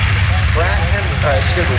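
Several B-25 Mitchell bombers with 1,700-horsepower radial engines rolling at a flight demonstration, a loud steady droning roar throughout, with an announcer talking over it.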